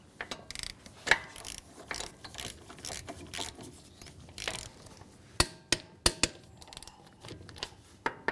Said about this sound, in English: we're going to torque down our lug nuts to 75 foot-pounds